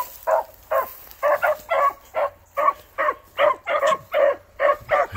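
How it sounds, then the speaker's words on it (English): A bluetick hound puppy barking in a steady series of about a dozen short, yappy barks, close and loud, with no talk over them. "And in the back is a puppy out of Duke and Snow White."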